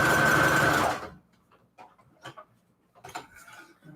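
A sewing machine stitching with a fast, steady mechanical whir for about a second, stopping abruptly and leaving faint handling sounds afterward.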